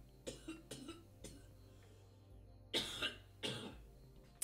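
Several coughs from one person, a few soft ones followed by two harsher, louder coughs, close up against a low steady hum.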